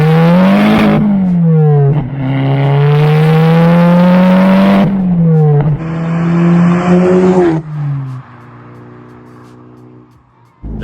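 A Volkswagen Golf GTI 6 Edition 35 with a Stage 2 tune making 341 hp accelerates hard, the engine note rising through the revs, dropping at gear changes and climbing again. It is loud and close and eases off to a quieter drone near the end.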